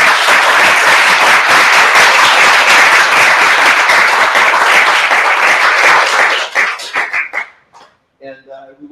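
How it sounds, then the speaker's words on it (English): An audience applauds steadily and loudly after a dissertation defense, with the clapping thinning out and fading toward the end before a few faint sounds. "let's give Katie a round of applause"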